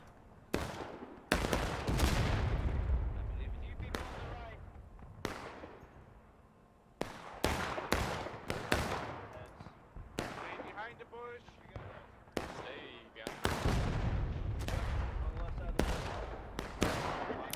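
Musket volleys in the multiplayer Civil War game War of Rights on the Pry Ford map, with repeated loud sharp cracks and rolling booms, some bunched into ragged volleys, others spaced apart, over a constant battlefield rumble.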